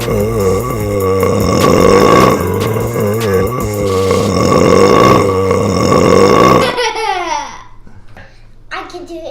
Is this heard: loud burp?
yes